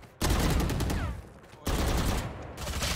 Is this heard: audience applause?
no